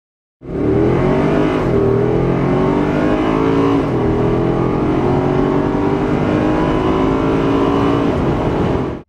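A loud Mercedes-AMG M156 V8 engine revs hard, climbing through the gears with rising pitch and brief dips at shifts, sustained and close.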